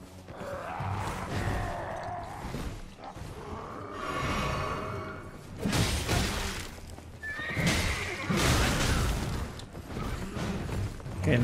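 A horse whinnies in Elden Ring, loud and close, with clip-clopping hooves and creaking, mechanical game sounds mixed in, several neighs rising across the stretch.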